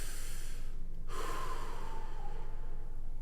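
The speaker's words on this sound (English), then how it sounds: "And breathe in and out." Deep yoga breathing during a beginner low back and hip session, one long audible exhale through the mouth, close and breathy over a faint steady background hum, with no talking.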